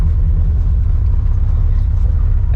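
A 1989 Chevy 1500 4x4 pickup accelerates in first gear with the choke unhooked, a steady, loud low engine rumble dominating throughout with no talk over it.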